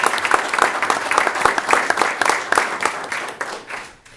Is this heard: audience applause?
yes